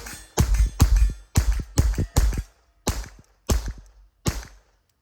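Suppressed rifle firing subsonic ammunition and CCI standard rounds, nine sharp muffled reports spaced roughly half a second apart in an uneven rhythm, each a close thump with a short tail, no talk between them.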